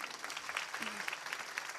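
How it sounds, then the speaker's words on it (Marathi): An audience claps together at a Marathi religious discourse (kirtan) on Putrada Ekadashi, a steady, fairly faint patter of many hands throughout, with a brief voice in the middle. "टाळ्या वाजवा ना जोरदार."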